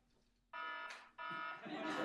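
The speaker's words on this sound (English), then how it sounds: "Once you hear that alarm, then you'll be able to finish your thought, but we ask you to wrap it up." A debate timer alarm marks the end of a speech with two long, loud electronic buzzing tones separated by a brief gap, and broad noise rises alongside the second tone.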